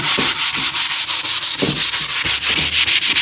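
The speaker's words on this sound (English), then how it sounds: "And this mild hand sanding," Mild hand sanding of wood, a quick regular back-and-forth rasp of abrasive paper over the board, close and loud, repeating in an even rhythm of about six strokes per second with no talking.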